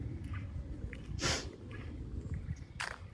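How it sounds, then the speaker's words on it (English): Outdoor sniffing beside a modified 2014 Ford Mustang on a pollen-heavy day, several short nasal sniffs and one louder snort-like inhale, close to the microphone over a low rumbling background. "I apologize for sniffing, but it is pollen out here."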